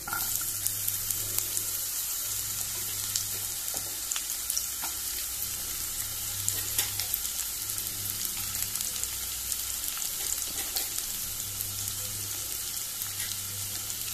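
Onion frying in oil in a pan, a soft continuous sizzle and crackle at moderate distance with faint occasional clinks, steady and unbroken, no voices.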